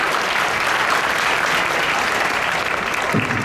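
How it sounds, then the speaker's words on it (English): A fan-convention audience at a Las Vegas celebrity stage panel claps in a dense, even wash of applause that holds loud and steady throughout. "God, you're so polite with this clapping."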